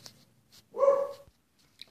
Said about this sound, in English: Had a little barking there.